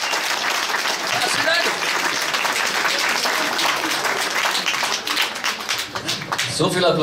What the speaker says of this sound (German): So viel Applaus für so einen kleinen Kerl.